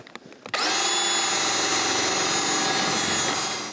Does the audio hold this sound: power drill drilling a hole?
yes